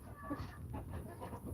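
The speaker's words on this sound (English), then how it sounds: "Chickens, excuse me." Chickens clucking in a garden yard, a steady jumble of close, moderately loud clucks running throughout over a low background rumble.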